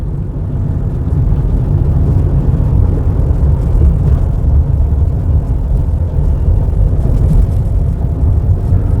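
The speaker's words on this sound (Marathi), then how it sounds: "प्रचंड ट्रकचं ट्रॅफिक आहे." Heavy truck traffic on a packed highway near a toll plaza, a dense, steady low engine rumble and road roar that stays loud and continuous throughout with no gaps.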